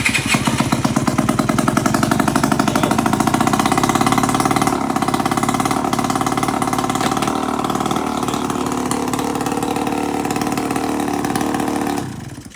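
A scooter engine idles loudly and steadily, close by, with a brief rise in revs early on. The engine note carries on without a break and then dies away at the end.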